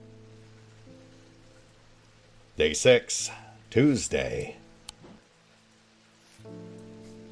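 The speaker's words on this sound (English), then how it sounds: "Ooh, also raining." Rain falls in the video game Strange Antiquities, a soft, steady patter running beneath background music, with a person talking over it partway through.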